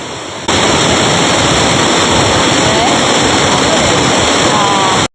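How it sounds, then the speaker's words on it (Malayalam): Vazhachal waterfall at Athirappilly, a loud, dense and constant roar of falling water that surges in after a brief quieter start and holds unbroken, with no voices. "വാഴച്ചാൽ വെള്ളച്ചാട്ടത്തിൻ്റെ വളരെ മനോഹരമായ ശബ്ദമാണ് നമ്മൾ കേൾക്കുന്നത്"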